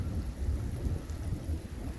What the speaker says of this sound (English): Oh, the rain's starting to come down really hard.